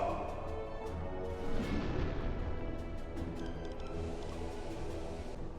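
Torpedo launch from a U-boat in the submarine game UBOAT, a loud dull whooshing boom with rumbling low end that swells briefly and then settles into steady mechanical hum.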